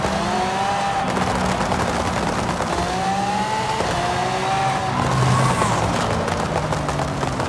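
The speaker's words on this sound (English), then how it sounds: "the sound of a V12 is just beautiful." A Lexus LC 500 with a V12 engine in Forza Horizon 5, a drag tune with anti-lag, revving continuously and loudly, its pitch climbing and dropping through repeated gear changes with some tire noise.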